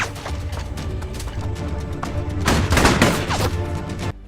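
Rapid bursts of gunfire in a film scene crackle in irregular volleys, intensifying into a dense, louder barrage near the end.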